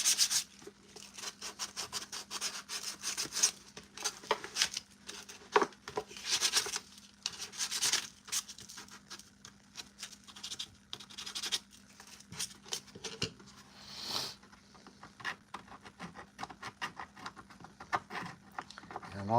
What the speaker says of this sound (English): all I'm doing here is just sanding all this up